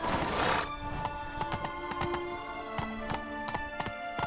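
Horse hooves clip-clop in a steady galloping rhythm in the Witcher 3 video game, starting after a brief burst of noise and continuing evenly at moderate volume with a faint whinny.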